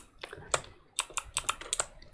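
Keystrokes on a Dygma Defy keyboard, a brisk irregular run of sharp clicks and clacks close up, with brief gaps between bursts and no voices.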